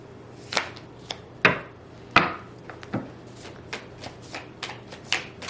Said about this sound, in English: Shuffle it once more.